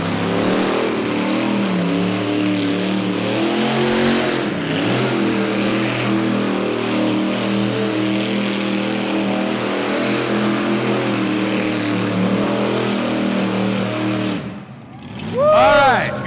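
A monster truck engine drones and revs steadily at close range for a long stretch, dropping away near the end as a brief swooping sound cuts in, with voices audible over the roar.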